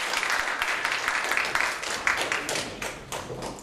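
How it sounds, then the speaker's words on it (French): Audience applause at a corporate talk on a digital-era multinational's development strategy, a brisk, fairly close burst of many hands clapping that holds steady for a few seconds. "Merci de leur faire un tonnerre d'applaudissements."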